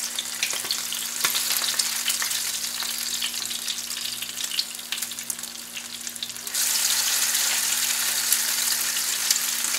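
Crab cakes frying in a pan, giving a steady broadband sizzle that runs the full length and grows slightly louder and brighter toward the end, with no voices.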